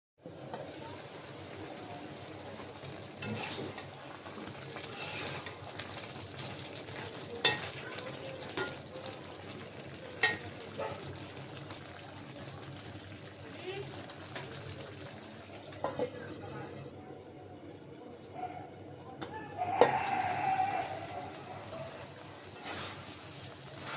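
A taro curry is stir-fried in a pan, with a continuous sizzle and frequent scraping and clattering stirs throughout, plus a brief watery splash near the end.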